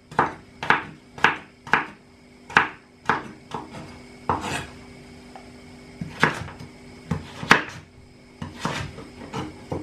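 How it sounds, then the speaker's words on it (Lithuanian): Knife chopping potatoes into small cubes on a board, a run of sharp close knocks at an uneven quick rhythm with short pauses between strokes. "Pjaustom tokiais kubeliais."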